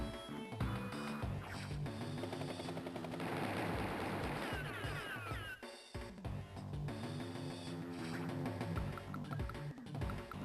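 Rapid chiptune-style machine gun fire in the Game Boy Advance game Advance Wars 2: Black Hole Rising, a dense rattling burst layered over looping game music, steady and moderately loud with a brief break midway.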